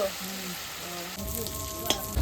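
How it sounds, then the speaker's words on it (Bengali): Prawns frying in a pan give a steady close sizzle that swells louder partway through, with a sharp pop near the end. "আর একটু ভাজা খাবে তো"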